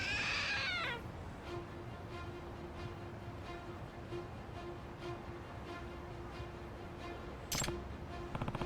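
A trick cat statue in the video game Lost Judgment gives a clear cat meow at the start, followed by a quiet hum with faint clicks and a brief bright chime near the end.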